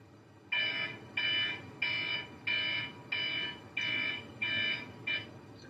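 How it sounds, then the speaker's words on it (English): An alarm beeps in a steady, regular run of eight evenly spaced electronic pulses, each about half a second long, fairly loud over a quiet room hum, with no voices. "What just happened when the alarm went off?"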